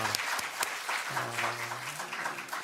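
Church congregation applauding during a Lent service, fairly quiet and diffuse, with a low sustained tone from an organ or keyboard underneath partway through.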